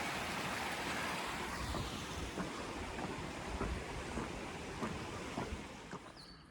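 Two streams flow under a new-looking footbridge on the Appalachian Trail, making a constant broad, close rushing wash that fades slightly at the end, with faint ticking steps.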